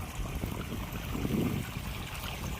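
Water streams out of a farm motor pump outlet, a steady close gurgling flow with a slightly louder surge midway, running alone without voices.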